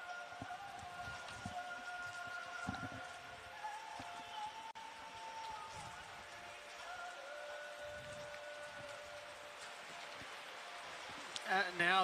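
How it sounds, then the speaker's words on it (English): Heavy rain pours down over an outdoor athletics stadium during a long jump and hammer throw final, a constant pattering hiss spread across the whole stretch beneath faint distant crowd sounds and commentary. "Now the rain is really starting to come down."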